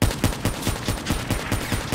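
Rapid volley of gunshots in a video game, a steady run of sharp cracks about every quarter second, loud and close, with no talking.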